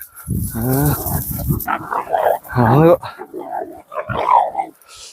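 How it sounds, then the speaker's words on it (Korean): Puppies play-fighting at close range, with yips, whimpers and small growls in quick, uneven bursts; no one speaks. "이렇게 강아지들끼리 붙여놓으면은, 이렇게 장난만 쳐요."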